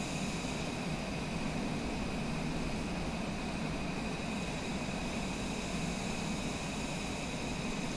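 A Cessna Longitude business jet in the MSFS 2020 flight simulator climbs out, giving a steady, loud, unbroken roar of jet engine noise and cabin air rush that holds level for the whole stretch.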